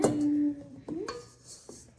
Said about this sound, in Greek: μόλις βγάλαμε το μείγμα από το μίξερ και τώρα θα το ανακατέψουμε